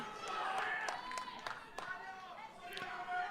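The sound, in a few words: crowd cheering and clapping at powerlifting competition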